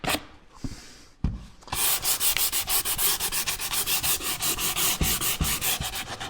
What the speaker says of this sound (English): hand sanding that round over just really gives it a nice soft feel to it